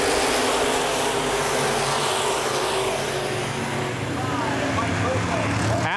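Open-wheel modified race cars roar around a dirt speedway oval under green-flag racing, a loud, continuous massed engine drone with rising and falling revs as the field passes.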